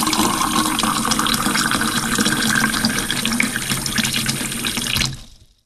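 Water pours steadily into a measuring cylinder, a continuous close splashing fill that runs for about five seconds and then stops abruptly, with no talking.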